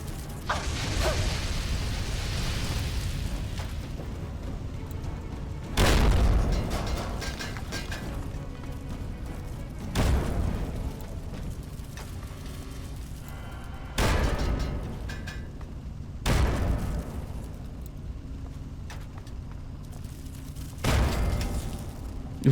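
Grenade explosions in the video game Fallout 3, several heavy booming blasts spaced a few seconds apart over a steady rumbling background, each with a sharp onset and a decaying tail.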